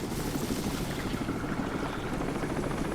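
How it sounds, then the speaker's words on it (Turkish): A helicopter approaching in the video game Crysis, with a steady, dense rotor and engine roar filling the whole stretch, loud and unbroken, with no speech over it. "Helikopter geliyor."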